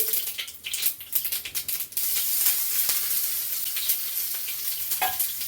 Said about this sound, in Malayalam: ഇപ്പൊ കടുക് പൊട്ടി കിടന്നു കഴിഞ്ഞു